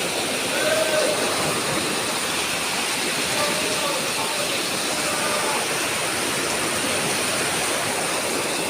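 Strong floodwater current rushes in a dense, continuous roar, loud and close with no letup.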